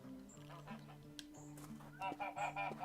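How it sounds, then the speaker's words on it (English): Geese in the video game Scarlet Deer Inn honk repeatedly in a quiet, mid-distance chorus, with a rhythmic series of short honks over soft ambient game music. "Another goose to pet."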